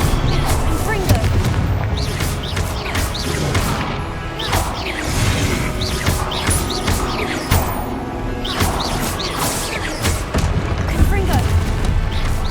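Repeated blasting-spell explosions from Confringo in Hogwarts Legacy, a steady run of loud crashing booms and whacks layered over continuous game combat noise.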